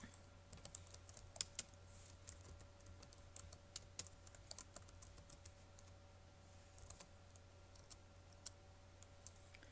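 Keys on a computer keyboard clatter as code is typed, a quiet but steady run of irregular clicks and taps with short pauses, close by and with no talking.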